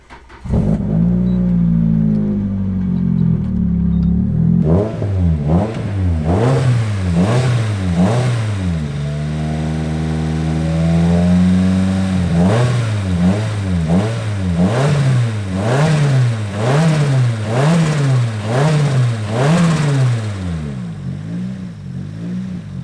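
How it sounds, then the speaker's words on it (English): A car engine cranks and catches, then idles and revs repeatedly in rising and falling surges, loud and close, settling near the end. "we're just going to start the car up and just see if it makes any sort of difference"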